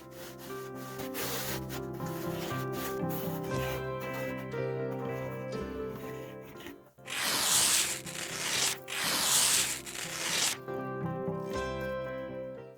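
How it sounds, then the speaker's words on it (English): A lint roller rubs back and forth over a fabric table lampshade, producing repeated close, scratchy swishing strokes in rhythmic bursts over faint background music. "using a lint roller to clean the table lampshade"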